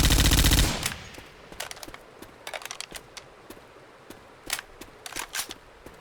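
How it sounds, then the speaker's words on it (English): Rapid automatic fire from the chain gun in the Left 4 Dead 2 video game, one loud sustained burst at the start followed by scattered sharp clicks and mechanical handling sounds. "Grabbing the chain gun."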